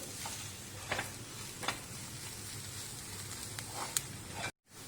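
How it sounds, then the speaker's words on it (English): Ginger garlic paste and chili powder get stirred together in a pan for a quail egg roast, a soft continuous sizzle broken by several brief scraping strokes, fairly quiet and close. "Next we mix all these ingredients together"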